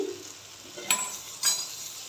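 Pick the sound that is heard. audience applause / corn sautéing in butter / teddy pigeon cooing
corn sautéing in butter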